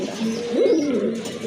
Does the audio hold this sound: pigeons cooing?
yes